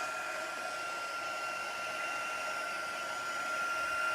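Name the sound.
heat embossing tool blowing hot air on cardstock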